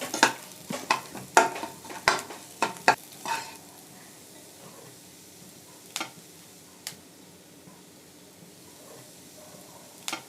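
Garlic and onion fry gently in oil as a spoon scrapes and taps the pan in a quick burst of clicks, then a faint steady sizzle continues with a few isolated taps; no one speaks.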